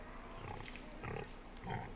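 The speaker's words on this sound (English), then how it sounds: "I fed all the pigs." Pigs grunting in the Farming Simulator 25 video game, a few soft, brief grunts and snorts over quiet ambient noise, ending in a louder low thump.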